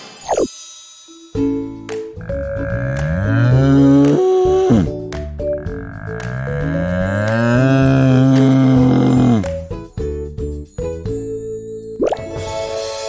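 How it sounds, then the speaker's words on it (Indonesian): A cow lets out a long, drawn-out low moo over light playful music, with plinking notes before and after. "suara sapi."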